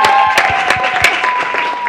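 An audience applauding students on a television show: dense, continuous clapping from a crowd that stays lively and close throughout, with steady tonal hums running beneath it.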